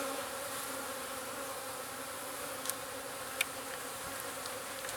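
Honeybees being installed into a new hive make a dense, steady buzzing hum close by, continuous throughout with a couple of faint clicks.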